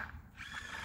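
A power drill whirs in steady bursts at a nearby construction site, fairly close and moderately loud, with no voices.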